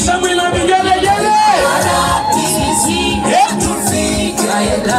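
Wedding guests ululating at a wedding celebration, several high trilling and wavering voices rising and falling loudly together over a busy crowd with shouting and cheering.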